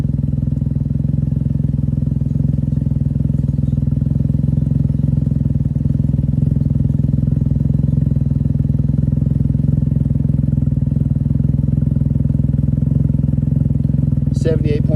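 A Can-Am Ryker three-wheeler fitted with an RLS carbon exhaust, baffle removed, runs with a loud, steady, deep engine drone held for the whole stretch, with a voice talking over it.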